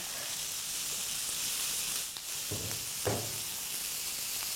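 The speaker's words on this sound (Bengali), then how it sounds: "এবার আমরা এটাকে 1 কাপের মতন পানি ঢেলে দিব" Dried fish frying in a pan with spices while about a cup of water is poured in gives a steady, close sizzling hiss, with two brief, louder bursts near the end.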